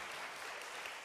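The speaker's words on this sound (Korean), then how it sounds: "우리 하나님께 영광의 박수 한번 올려드릴까요?" A church congregation at a Friday late-night worship service gives a short burst of steady, dense applause, faint and distant-sounding.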